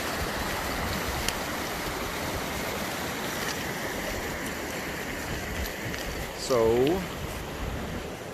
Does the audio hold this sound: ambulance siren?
no